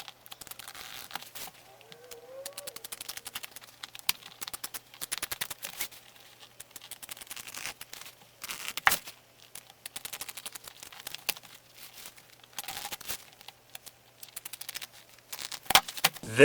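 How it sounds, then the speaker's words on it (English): Scissors cutting the mesh panel out of a cushion along its seams, heard as a long run of close, quiet snips, crinkles and tearing rustles in irregular bursts, with no talking. "I'm just going to cut this mesh out at the seams."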